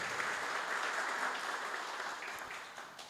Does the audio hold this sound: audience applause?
yes